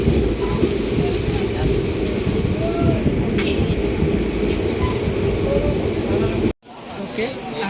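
The Balurghat Express at a railway platform, with a steady, loud rumble of train and station noise throughout that breaks off sharply near the end, with no distinct voices.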